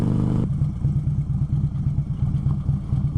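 A Softail motorcycle with big cams being ridden over bumpy ground, its engine giving a steady, pulsing low rumble that stays loud and close throughout, with no voices.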